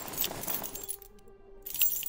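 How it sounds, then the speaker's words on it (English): Car keys jangle as they are handed from one person to another, a bright metallic rattle in two close bursts separated by a brief quieter pause. "Blake hands Rylan his car keys."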